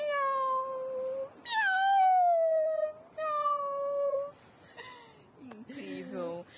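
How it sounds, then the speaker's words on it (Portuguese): Cats meow and caterwaul in a run of long, drawn-out, wavering cries separated by short pauses, loud and close, ending in lower, rougher yowls. "O namoro de gatos."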